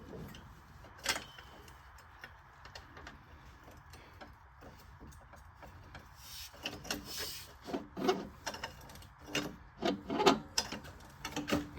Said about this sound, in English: it just sounds like something's gouging.